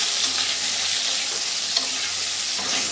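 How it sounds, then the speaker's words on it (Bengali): Salted potatoes fry in white cooking oil in a pan and are stirred, giving a loud, close, continuous sizzle with light scraping and no talking. "সবার আগে আলুটা একটু ভেজে নেব।"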